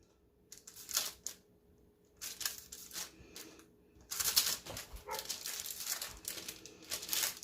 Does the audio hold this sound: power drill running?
no